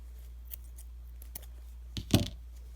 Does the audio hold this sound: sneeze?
no